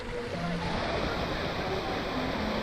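Waterfall pouring into a pool, heard as a steady, dense rushing roar from close by that holds even and unbroken throughout, with no voices.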